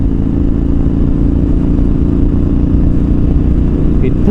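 KTM 1290 Super Adventure R motorcycle engine pulling hard from around 2000 RPM, a loud steady rumbling drone with wind roar, continuous and close.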